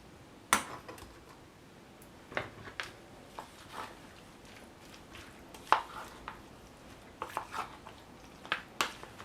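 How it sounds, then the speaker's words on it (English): Tomatoes and peppers stirred into fresh pico de gallo in a bowl, giving scattered soft clinks and scraping taps of a utensil against the dish at irregular intervals, fairly quiet with no talking. "Going to add the tomatoes and the peppers and mix it in"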